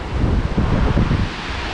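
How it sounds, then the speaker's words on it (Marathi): A loud, steady rush of river water roars close by near Dhulghat village in Melghat, broad and noisy, with gusts of wind buffeting the microphone. "पाण्याचा आवाज किती खडखड येतो आहे"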